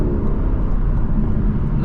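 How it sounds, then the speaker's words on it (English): Lexus LC500 accelerating hard up to freeway speed in comfort mode, heard from inside the cabin as a steady, loud low engine and road roar with no pauses and no talking. "Look how fast we just got up to highway speeds."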